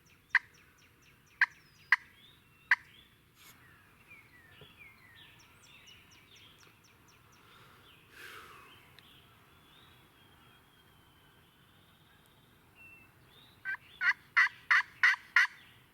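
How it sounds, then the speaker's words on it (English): Wild turkeys gobbling at a Missouri spring hunting camp, sharp rattling gobbles in quick bursts at the start and a louder, nearer run of gobbles at the end, with faint songbirds between. "that last one that gobbled sounded closer than those 2 that gobbled"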